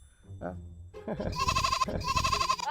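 A goat bleats in a farmyard, a short cry followed by two loud, long, wavering bleats close by, with a person talking briefly beforehand.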